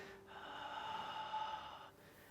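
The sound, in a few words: person breathing during qigong exercise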